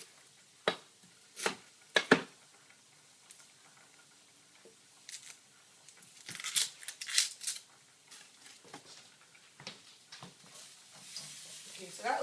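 A knife chops onions on a board for beef kebabs in a home kitchen, with a few sharp, separate cuts and quiet scraping between them.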